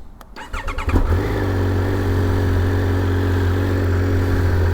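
A 2022 Triumph Speed Triple 1200 RR motorcycle engine starts up: a short cranking stutter, then it catches and settles into a loud, steady idle close by, with no talk.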